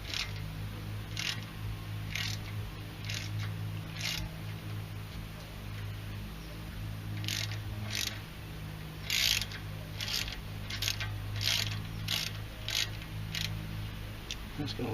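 A ratchet working a stuck bolt back and forth on the front brakes of a Mercedes GL450 (X164), rapid clicking bursts repeating in short strokes over a low steady hum, close by.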